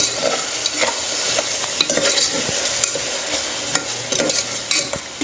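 Goat intestine curry in a pan with pepper paste, stirred while it fries, making a continuous loud sizzle with repeated scraping strokes of the spoon and no voices.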